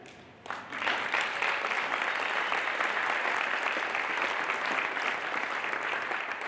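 A seated audience at an evening motivational event breaks into applause for Don, a full, sustained round of clapping that starts abruptly and holds steady, loud and close, with no talking over it.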